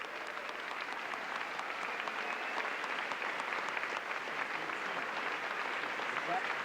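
A concert audience applauds the 6th, 7th and 8th grade bands and the high school band, a steady, even roar of many hands clapping that fills the hall at a distance, with some chatter mixed in.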